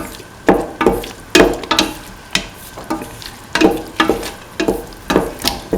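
Green chillies being stirred into a hot pan with salt, for curried cauliflower rice: a spatula scrapes rhythmically and repeatedly against the pan over a steady, loud sizzle.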